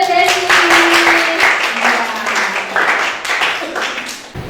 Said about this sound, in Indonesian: Tepuk tangan dulu untuk Desi.